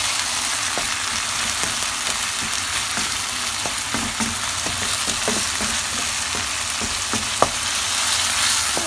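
Tomatoes sauté in a pan in a steady, close sizzle and crackle, broken by occasional stirring clicks and scrapes, with no talking.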